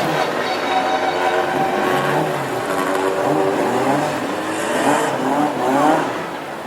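Classic hot rod race cars fill the grid at Hednesford for the 2017 Best in Britain Championship final, a steady loud wash of idling and revving engines rumbling together throughout with no talk.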